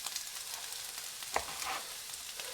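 A crowded pan heaped with onions fries steadily, a close, continuous sizzle and crackle with one brief louder clatter partway through.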